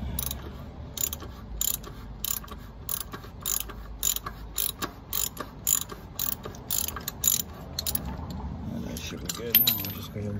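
A ratchet wrench loosens the oil drain plug under a 2019 Kia Sedona, giving close, rhythmic bursts of metallic clicks with short pauses between strokes.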